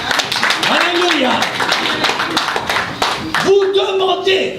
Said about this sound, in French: Asseyons-nous et applaudissons la parole de Dieu